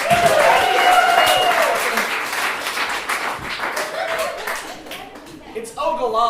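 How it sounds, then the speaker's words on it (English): An improv comedy audience claps and applauds for two volunteers, loud at first and then fading. A voice speaks over the clapping, and light laughter mixes in. "of applause for our 2 volunteers"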